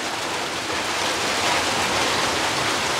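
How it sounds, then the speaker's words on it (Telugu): Steady, dense rain falls outdoors, close and loud, an even hiss of drops with no voices over it. "ఎంత బాగుందనా వర్షం శబ్దం"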